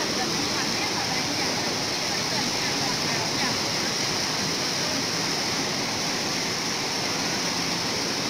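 A swollen river rushes through a flash flood in Mường La, a loud, unbroken roar of churning water that stays constant from start to finish.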